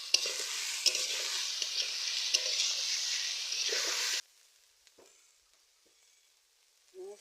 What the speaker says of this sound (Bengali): ডিমের শাক আর আলু ভাজা হয়ে গিয়েছে, এবার নামিয়ে নেব।